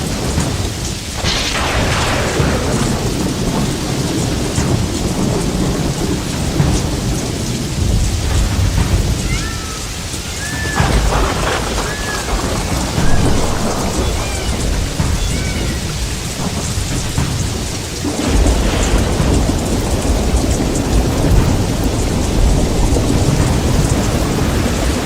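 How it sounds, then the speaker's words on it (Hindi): Heavy rain pours down steadily with rumbling thunder rolling through, a dense, loud downpour of a storm, with no voices present. "ऐसी बारिश जैसे आसमान फट गया हो।"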